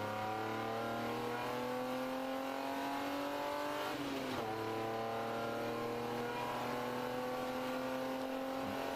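Race car in a ChampCar endurance race at the Carolina Grand Prix, heard from onboard with a steady, loud engine drone; around the middle the pitch drops sharply through quick downshifts into the turn, then rises again as the car pulls away.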